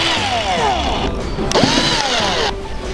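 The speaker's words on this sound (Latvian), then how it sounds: "Ņemam mūsu urbīti un mēģinam nolikt tieši centrā" A small drill bores into an ostrich eggshell set in a bowl, giving a continuous high grinding whine with a sharp scrape partway through, loud and close.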